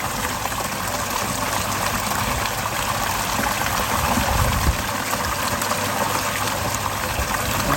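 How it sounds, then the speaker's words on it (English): Water gushes continuously from an opened koi pond bottom drain, a loud, steady, close rush of flowing water with no pauses or voices. "all I've got to do is open up the bottom drain, and that still leave that open so the water still comes out."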